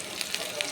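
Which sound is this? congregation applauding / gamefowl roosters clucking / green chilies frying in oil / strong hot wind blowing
green chilies frying in oil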